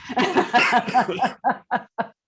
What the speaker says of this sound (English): I coughed all over that one.